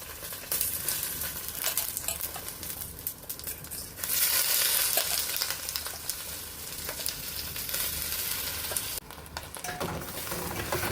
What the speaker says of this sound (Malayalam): ഈ അരി കൂടി ഇതിലേക്കിട്ട് ചെറുതായിട്ട് അതിനെ ഒന്ന് വറുത്തെടുക്കാം.